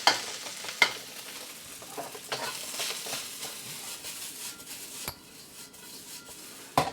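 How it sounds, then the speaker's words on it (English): Rice for chorizo and corn fried rice is stir-fried in a ripping hot wok with plenty of oil, a low, continuous sizzle with scraping stirs and occasional sharp clanks of the spatula against the metal. "break up the rice with our fingers a little, and then straight into a ripping hot wok"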